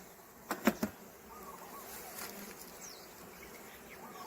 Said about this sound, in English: the bees will move away from this comb so I don't hurt them as I'm removing it